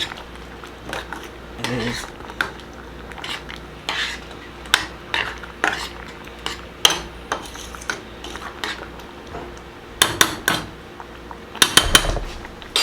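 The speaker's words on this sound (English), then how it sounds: "just give it a nice little stir" Onions with sugar are stirred in a pot, a spoon scraping and knocking against the metal in irregular clinks and taps close by, with a quiet background hum.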